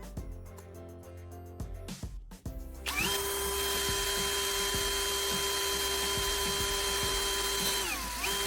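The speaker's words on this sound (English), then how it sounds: "Now, I'm carefully drilling holes at each marked point using a small drill bit." A power drill with a small bit bores holes through stacked CDs, starting with short bursts and then holding a steady, close, high-pitched whine before spinning down at the end.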